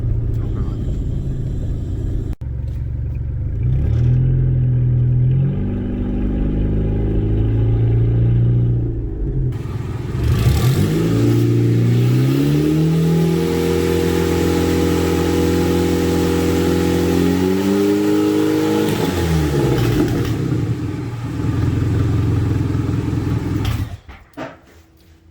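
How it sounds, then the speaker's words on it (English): A turbocharged 2004 Chevrolet Cavalier running without a wastegate after sitting for four years rumbles loudly, its engine revving up and settling in rising and falling sweeps before cutting off at the end. "That was the first time it drove in 4 years."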